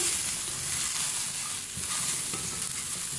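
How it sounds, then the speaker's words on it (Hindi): Cauliflower pieces and green chillies fry on a medium flame for a chicken and cauliflower curry, giving a steady, close sizzle with soft stirring scrapes throughout and no talk. "गोभी हमारी फ्राई हो रही है मीडियम फ्लेम पे।"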